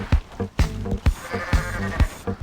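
Goat bleats from the video game Goat Simulator sound in repeated short, loud calls with a steady rhythm over a busy game soundtrack.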